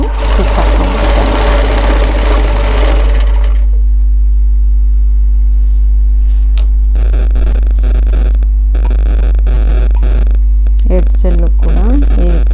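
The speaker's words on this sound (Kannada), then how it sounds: "ಇದೇ ರೀತಿ ಸಮವಾಗಿ ಎಡ್ಜ್ ತನಕ ನಾನು ಸ್ಟಿಚ್ ಹಾಕ್ಕೊಂಡ್ಬಿಡ್ತೇನೆ." A sewing machine stitches a chudidar top in a training class, running in bursts of rapid rattling separated by short pauses, over a loud constant mains hum, with someone speaking during the first few seconds.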